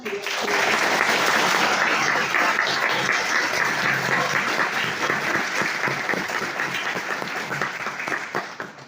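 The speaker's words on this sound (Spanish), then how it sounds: "Vamos a darle un fuerte aplauso." An audience at an economics lecture gives a guest speaker loud, sustained applause, dense and even throughout before tapering slightly at the end.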